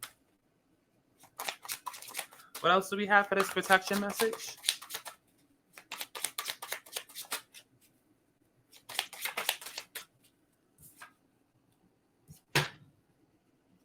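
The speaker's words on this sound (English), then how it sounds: "I want to shuffle." Tarot cards being shuffled, a riffle of stiff card stock with a quick fluttering burst lasting a couple of seconds, heard between stretches of a woman's speech.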